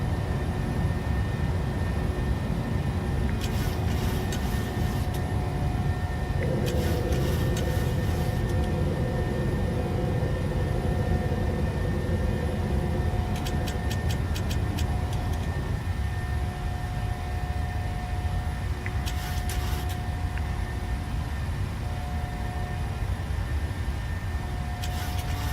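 A PMDG 737-700 jet climbing after takeoff in Microsoft Flight Simulator, a steady loud engine roar with a constant tonal whine and a few brief cockpit clicks and beeps.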